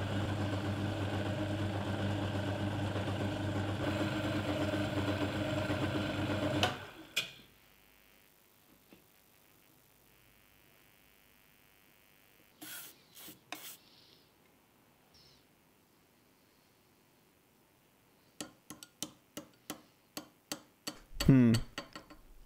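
A milling attachment cutting a keyway in a Land Rover alternator rotor shaft runs as a steady machine drone for several seconds, then stops, leaving quiet gaps broken by scattered clicks and taps.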